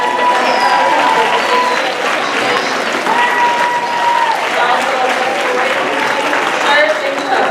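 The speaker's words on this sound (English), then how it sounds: "Eighth grade, can y'all stand up and give Mr. Kemokai a round of applause?" Eighth-grade students at a school house meeting give a sustained, loud round of applause for a speaker. The steady clapping is close and full, mixed with cheers and voices.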